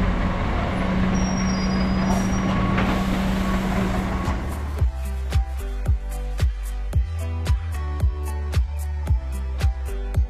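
A bus at the bus station in Andorra la Vella: a low engine rumble with a brief hiss gives way to a steady series of sharp, evenly spaced ticks, close and moderately loud.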